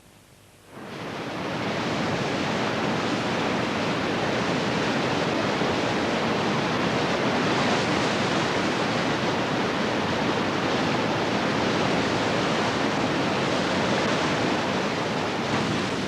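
An Irish salmon river in full flood rushes past, a dense, unbroken roar of water that swells up in the first second and then holds loud and steady throughout.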